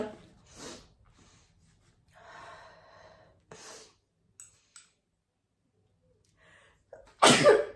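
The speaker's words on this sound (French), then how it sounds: "je crois que dans cette vidéo, je ne vais pas arrêter d'éternuer" A single loud, close sneeze bursts out near the end, after a stretch of quiet sniffing and soft breathy sounds.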